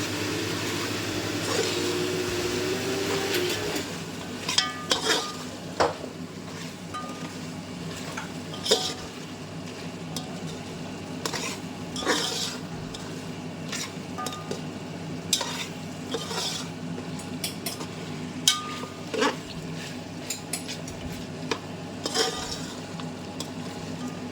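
Mutton biryani mixture is stirred in a pot, a spoon scraping and clinking against the metal in a steady, irregular rhythm over a constant low sizzle, close and moderately loud, with no talk.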